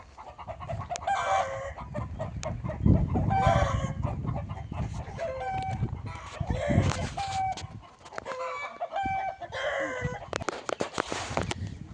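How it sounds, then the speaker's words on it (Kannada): Several chickens cluck and call nearby, with a rooster crowing more than once among the busy, overlapping farmyard noise. "ಇವು ಸ್ವಂತಕ್ಕೆ ಸಾಕಿರುವಂಥ ಕೋಳಿಗಳು"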